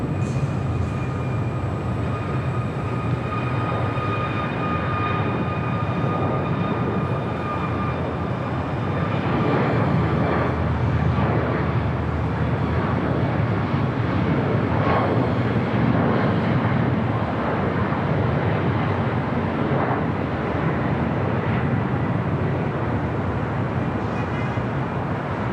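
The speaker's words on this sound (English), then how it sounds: "Our next arrival is Air Canada flight 775 coming in from Montreal" An Air Canada Boeing 737 MAX 8 arriving at LAX from Montreal, a broad steady jet roar that swells in the middle and holds, heard from a distance.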